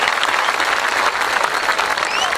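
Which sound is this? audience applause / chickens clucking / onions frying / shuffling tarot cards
audience applause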